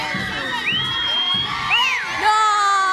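A TV studio audience shouts and cheers loudly, with excited whoops and high-pitched yells overlapping throughout a short burst of crowd noise.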